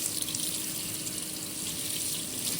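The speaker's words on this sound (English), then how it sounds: "I'm just gonna run some water through it" Kitchen tap water running steadily over food being rinsed before cooking, a constant close hiss and splash of water into a sink.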